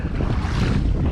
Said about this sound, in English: the waves are coming in a bit